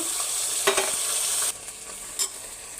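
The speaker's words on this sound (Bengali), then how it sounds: "পেঁয়াজটা ভাজা ভাজা হয়ে গেছে, আদা রসুনের পেস্ট দেবো," Onions fry in a pan as ginger garlic paste goes in, a steady close sizzle with a few clinks and scrapes of stirring, the hiss dropping sharply halfway through.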